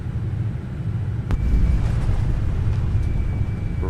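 Thrust reversers on a British Airways 787 landing in Microsoft Flight Simulator, a broad, heavy low roar that swells after a thump at touchdown and holds steady and loud.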